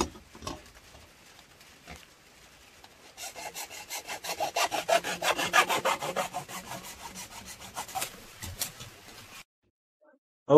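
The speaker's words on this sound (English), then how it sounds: "You can also cut this pipe with the hacksaw, reciprocating, battery powered." A handheld hacksaw cuts through plastic drain pipe at close range, starting with a few light strokes, then a fast run of regular rasping back-and-forth strokes before stopping abruptly.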